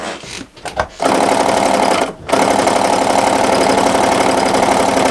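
A sewing machine quilting fabric for a baby quilt runs in a close, steady mechanical whir, pausing briefly twice near the start before settling into a continuous stitching drone with no talking.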